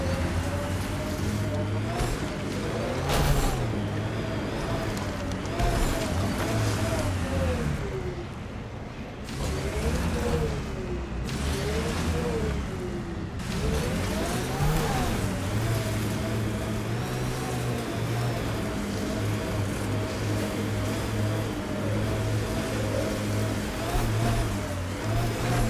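Six-wheel vehicle driving uphill in Mass Effect Andromeda on the planet Voeld, a steady, loud engine drone with rising and falling revs throughout.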